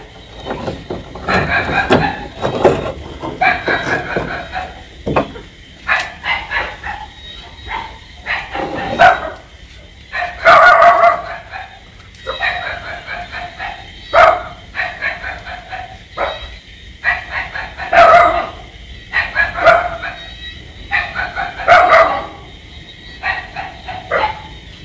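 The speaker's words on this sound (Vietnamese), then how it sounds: "Chó sủa quá trời." Dogs bark repeatedly in clustered volleys at a home being unlocked, with sharp, fairly close barks and yips recurring steadily throughout and no talk.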